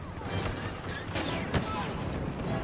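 Bursts of Star Wars Battlefront gunfire crackle and pop amid busy background noise, with one sharper shot standing out near the middle.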